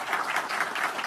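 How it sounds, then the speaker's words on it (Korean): Applause from party members at a National Assembly caucus meeting welcoming a floor leader candidate team, a brief steady patter of clapping at moderate level. "큰 박수로 환영해 주십시오."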